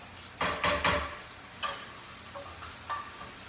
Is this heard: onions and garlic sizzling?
yes